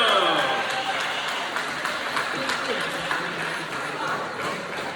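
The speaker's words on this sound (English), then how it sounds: "Can y'all give a nice round of applause for Mr. Tristan Williams?" Applause from a middle school ceremony audience for an honoree, continuous moderate clapping with crowd murmur and talking mixed in underneath.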